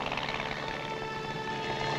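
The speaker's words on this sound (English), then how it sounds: "Helicopters and light planes." Army helicopters and light planes flying over a battlefield, a steady broadband rotor and engine drone that stays loud and continuous throughout with no voices.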